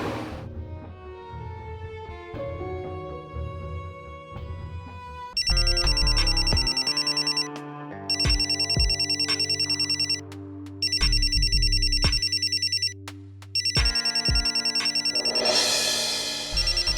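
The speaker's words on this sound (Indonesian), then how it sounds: "Semua telepon Atta emang sengaja gue cuekin." A melodic phone ringtone plays on loop, bright electronic chimes over a bouncy bass line, repeating in bursts with short gaps.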